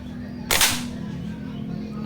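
A single sharp shot from a PCP air rifle with a tactical setup and Manlapat barrel, firing an Astro 18 pellet, cracks once and fades quickly over a steady low background hum, with no other sounds.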